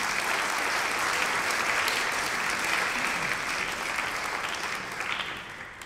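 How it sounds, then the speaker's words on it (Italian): An audience applauds at a gala concert for finalists of the 14th Ottavio Ziino International Opera Competition, sustained, dense clapping from a large hall filling the whole six seconds and easing slightly toward the end. "Ancora forte l'applauso"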